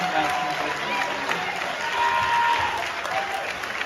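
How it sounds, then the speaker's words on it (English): An audience claps and cheers at a Kamala Harris campaign event, a loud, sustained wash of applause with scattered whoops, heard at a slight distance. "Look at these fucking zombies clap"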